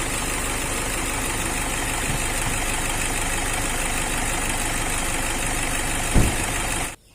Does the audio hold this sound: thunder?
no